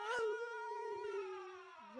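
A drawn-out, wavering cat yowl in a horror video game, loud and close, sliding lower in pitch before ending with a short rising cry.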